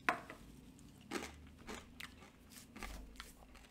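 Close, sharp crunches of corn nut snack mix being bitten and chewed, several bites spaced out over near silence.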